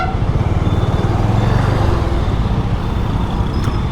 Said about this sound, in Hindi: कितना ट्रैफिक है भाई।